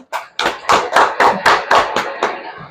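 A quick, fairly steady run of close hand claps, about eight or nine sharp smacks packed into under three seconds, loud and near.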